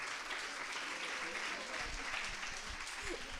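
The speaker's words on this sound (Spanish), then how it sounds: "Aplauso fuerte." An audience at a hospital conference on traditional medicine and complementary therapies claps steadily for a few seconds, a dense, fairly distant wash of applause with no break.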